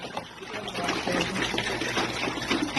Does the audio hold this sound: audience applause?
no